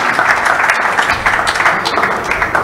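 Crowd applause for the mothers at a book launch in a church setting, a dense, steady patter of many hands clapping nearby without pause.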